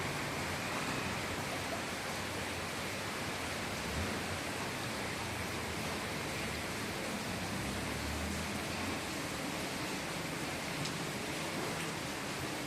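Steady rain keeps falling over Balaji Garden in Chennai's Red Hills (Sengundram), a dense, even hiss that fills the whole stretch without pause, fairly soft and unbroken, with no voices over it.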